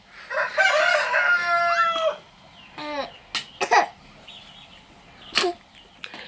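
A backyard rooster crows loudly nearby in a long drawn-out call, followed by a shorter second crow and a few scattered clucks and rustles in a quiet rural yard.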